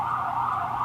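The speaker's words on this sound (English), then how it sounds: "There is an ambulance outside who's very, very desperate to get on by." An ambulance siren wails outside in a steady, continuous sweeping tone, fairly loud and unbroken, with no talking over it.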